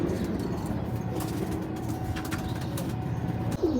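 Domestic pigeons at a pigeon sale in Ichapur, West Bengal, giving soft, low cooing calls close by over a steady murmur of background noise, with no clear talk.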